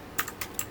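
Four or five quick, quiet keystrokes tap on a computer keyboard as numbers for an IP address are entered, close and crisp with short gaps between presses.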